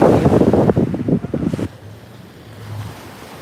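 Wind gusts roar across the microphone beside Lake Wakatipu in Queenstown, New Zealand, loud and buffeting for the first second and a half, then dropping to a low, steady rush.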